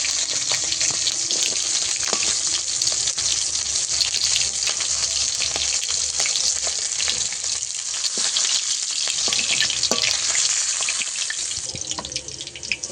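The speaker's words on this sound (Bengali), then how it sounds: "ভালো করে ভাজা হয়ে গেছে তুলে নেবো" Ribbonfish fries in hot oil with a loud, dense, crackling sizzle that holds steady throughout, heard up close, with a few light utensil taps.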